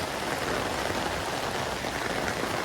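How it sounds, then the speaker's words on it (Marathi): Heavy rain pours steadily at a railway station, a dense, continuous hiss of drops drumming on surfaces with no break and no voices. "अजून बाहेर जोरदार पाऊस चालू आहे"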